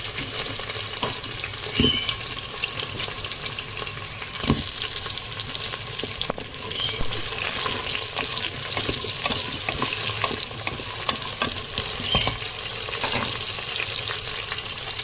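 Potatoes drop into a frying pan of hot oil and sizzle continuously, with a few sharp clinks and stirring scrapes over the steady hiss.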